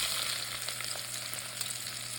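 Onions sizzling in hot bacon fat at the bottom of a pot, a steady close hiss with faint crackles and no voices.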